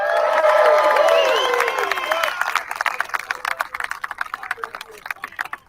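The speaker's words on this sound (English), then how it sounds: "So round of applause for yourselves." A crowd at a live People's Convoy gathering cheers and shouts loudly, then the voices fade into scattered, uneven clapping that keeps going to the end.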